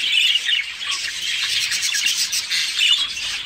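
Japanese society finches chirp in quick, high, close twittering bursts, a continuous lively chatter lasting a few seconds with no voices.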